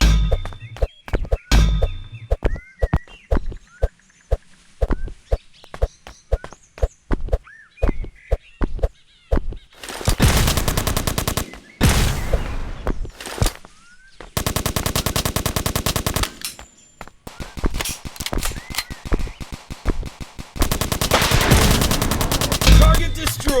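Assault rifle fire in the video game Jack Street: sparse single shots and short bursts at first, then long, loud sustained automatic volleys that are dense and continuous, separated by brief pauses.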